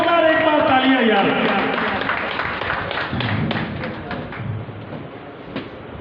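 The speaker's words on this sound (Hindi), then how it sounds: "यार जोरदार एक बार तालियां यार" Applause from an audience at a meeting held in a marriage hall, a dense wash of clapping that fades gradually over several seconds while a voice speaks over it.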